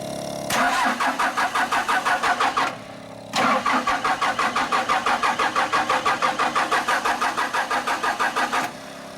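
Ford F350 Bullnose pickup truck engine cranking in two long attempts, a rapid rhythmic chugging starter whir heard close, the first about two seconds and the second over five seconds, with no talk.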